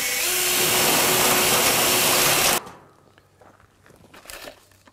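A power screwdriver drives a screw to fix a metal profile onto a wooden joist for a slab terrace, whirring loudly and close for over two seconds before cutting off, followed by faint handling clicks and rustles.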